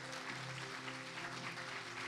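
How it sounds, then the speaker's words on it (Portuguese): A church congregation applauding, a faint, steady wash of distant clapping from a large room, continuous and even throughout with a low hum beneath. "Pode aplaudir."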